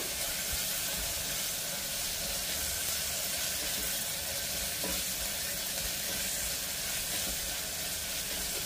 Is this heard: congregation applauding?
no